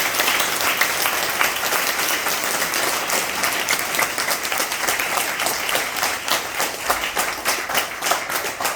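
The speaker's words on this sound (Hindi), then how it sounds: "तो मैं आपसे ये चाहूंगा कि अगर आप मेरे साथ हैं तो आप जोर से तालियां बजाने का कष्ट करें।" Audience at a business seminar clapping loudly and steadily, a dense sustained burst of many hands from a large crowd, with no voices over it.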